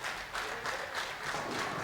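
Steady applause from an audience at a bowling match, a continuous wash of many hands clapping at moderate distance with faint crowd murmur beneath, no pauses across its short span.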